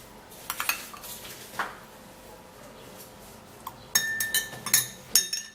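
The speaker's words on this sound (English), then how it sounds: "I'm going to be scooping in the yogurt into this glass of milk" A spoon clinks against a glass of milk while scooping in yogurt, a few light taps early, then a busier run of bright clinks and scrapes toward the end, close and fairly quiet, with no speech.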